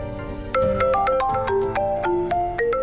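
A phone ringtone plays a bright, repeating electronic melody of quick tonal notes, loud and close, with no voices.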